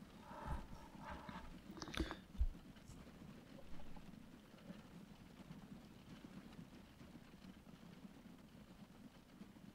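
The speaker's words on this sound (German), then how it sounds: "Und zur Abwechslung auch wieder mal ein Pferdefuhrwerk voll Ölfässer." A horse-drawn cart loaded with oil barrels clip-clops in Train Fever, a few clustered hoof knocks early on over a low rumbling background that then settles into quieter steady noise.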